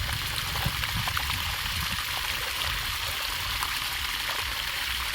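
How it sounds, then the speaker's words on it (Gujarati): Rainwater runs and rushes steadily during a downpour around a home, a continuous broadband wash with no voices. "વરસાદ ચાલુ થઈ ગયો આપણે હવે ઘરે પલ્લી ગયા જાઓ જોયું પાણી"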